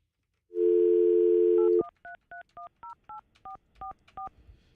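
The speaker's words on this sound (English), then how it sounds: "What is the phone number I just dialed, Froggy?" A telephone number is dialed: a steady dial tone sounds for about a second, then cuts to a quick series of eleven short, evenly spaced DTMF keypad beeps, clear and close with no talking.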